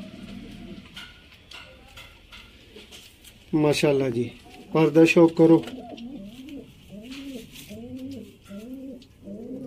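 Sialkoti pigeons coo up close in repeated rolling, throaty calls, a few louder bursts standing out. Someone talks over parts of the cooing.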